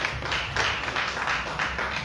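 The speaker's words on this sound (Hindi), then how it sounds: "ताली बजा दे यीशु के लिए।" Church congregation clapping together, a dense, steady wash of many hands at moderate loudness with a loose rhythmic pulse, with no voices over it.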